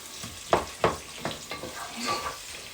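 Rice and beans with curry chicken being stirred and fried in a pan for a Jamaican dish, with about five distinct scraping stir strokes over a steady low sizzle, close and fairly loud, with no talking.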